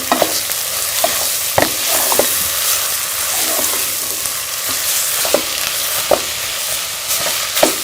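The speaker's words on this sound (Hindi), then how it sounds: "अब हम इसमें चिकन का कीमा शामिल कर लेंगे। इसमें लहसुन डाल देंगे और इसको अच्छी तरह से मिक्स कर लेंगे।" Steady sizzling from a hot pan as a spatula scrapes and stirs minced chicken with garlic, occasional sharp clinks against the metal over continuous frying.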